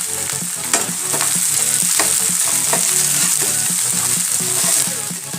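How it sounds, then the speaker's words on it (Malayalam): A finely chopped large onion sautés with salt in a pan for a horse gram and ash gourd stir-fry, giving a loud, steady sizzle with frequent scraping stirs and no talking. "ഇനി ഇതിലേക്ക് ഒരു വലിയുള്ളി ചെറിയതായി കട്ട് ചെയ്ത് വെച്ചിട്ടുണ്ട് അത് ഇട്ട് കൊടുക്കാം കുറച്ച് ഉപ്പിട്ട് കൊടുത്തിട്ട് നന്നായിട്ട് നമുക്കിത് വഴറ്റിയെടുക്കാം"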